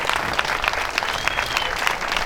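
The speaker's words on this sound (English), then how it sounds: "would you join me in a brief round of applause for our staff that helped make this event possible?" Guests at a client dinner event applaud the staff, a sustained round of clapping from a sizable room, fairly loud and even, with a faint voice or two mixed in.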